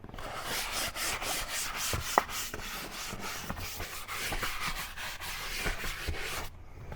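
Leather cleaner is worked into a dirty BMW 528 leather seat, a quiet, close, rhythmic scrubbing with steady back-and-forth strokes and one small click partway through.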